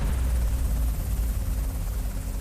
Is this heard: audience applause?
no